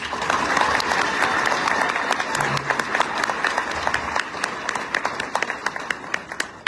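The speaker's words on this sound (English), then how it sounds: "If we can give a round of applause for County Commissioner Gary Edwards." An audience at a Thurston County public meeting applauds for a county commissioner, a steady burst of dense clapping from a roomful of people that thins toward the end.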